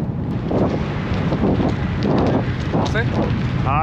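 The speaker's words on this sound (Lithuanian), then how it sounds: "pučia vėjai čia" Steady wind roars and buffets against the microphone throughout, with voices talking faintly beneath the gusts.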